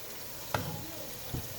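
Chicken pieces go into softened frying onions in a pan for biryani, a low steady sizzle with two soft stirring thumps, close but quiet, no speech.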